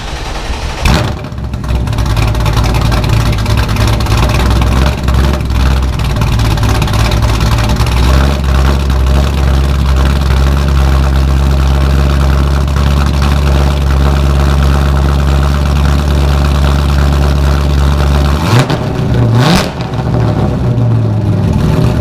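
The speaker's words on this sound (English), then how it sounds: "let's do a little cold start of the C5" A Chevrolet Corvette C5 starts from cold with a sharp crank and catch, then settles into a loud, steady, deep idle that holds for most of the clip before a final blip and cut-off.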